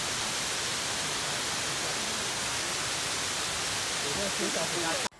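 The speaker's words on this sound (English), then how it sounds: "We can just sit here for just a second and look at them and listen to the water." A waterfall on a mountain hike roars with a dense, unbroken rushing of water, loud and close, holding steady before cutting off abruptly at the end.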